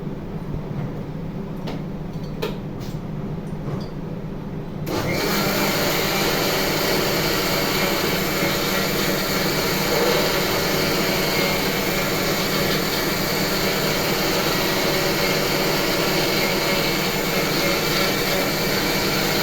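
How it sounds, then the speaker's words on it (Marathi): Faint clicks, then a mixer grinder grinding spice paste with a little water kicks on with a loud, steady whirring roar that continues without a break. "परत थोडंसं पाणी घेऊन आपण तो मसाला बारीक करून घेऊया मिक्सरमधून"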